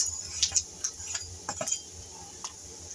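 Crushed peanuts and coarsely pounded dal stirred into hot tempering in a pan, with scattered light metallic clinks and scrapes of a spoon against the pan over a faint sizzle.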